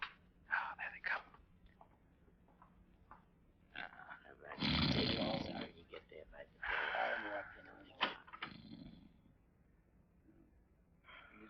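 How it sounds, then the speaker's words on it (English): A man snores in his sleep, a few rough, breathy snorts rising and falling at close range between quieter stretches, with faint shuffling around them. "I can hear him snoring."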